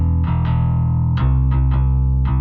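Clean bass guitar played straight into a DI, a few sustained low notes plucked in a slow, uneven rhythm, close and full with strong low end and no other sound.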